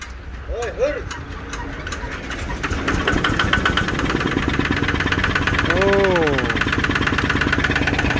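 A Kubota ZT155 plus diesel engine fitted to a small mini farm vehicle cranks and starts, then settles into a steady, loud, close idle with a clattering beat; a person speaks briefly near the start.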